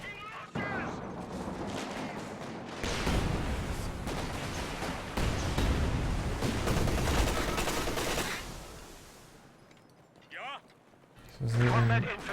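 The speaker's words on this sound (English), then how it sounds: "it's a Maxim and an MG34" Maxim and MG34 machine guns fire in Company of Heroes 2, loud sustained bursts of rattling gunfire and booming impacts over a battlefield, easing off near the end before a final short burst, with a voice talking over parts of it.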